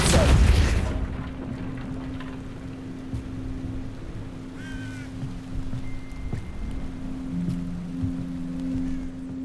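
A Depulso force spell cast in Hogwarts Legacy, a sharp booming blast at the start that fades into steady low ambient drones and faint tonal game effects.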